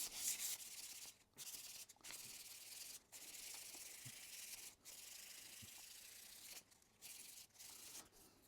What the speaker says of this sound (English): Now the 400 grit.